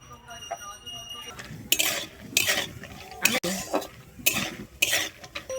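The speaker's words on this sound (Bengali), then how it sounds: "আমি প্রথমে নিয়েছি এখানে চীনা বাদাম বাদামটাকে আমি ভেজে নেব" Peanuts frying in mustard oil in a hot wok, with a spatula stirring and scraping against the metal in repeated bursts over a soft continuous sizzle.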